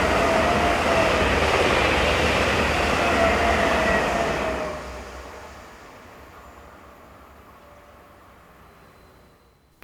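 A Swiss Class 460 electric locomotive on a track measurement run roars past close by on the main line near Olten. Its loud rumble drops sharply after a few seconds and then fades into a quieter receding hum.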